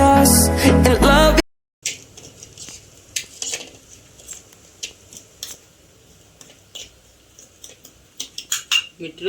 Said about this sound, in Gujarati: મિત્રો હવે આપણે મેંગીનો મસાલો નાખી દઈએ. આપણે કાબીથી ને હલાવી નાખીએ.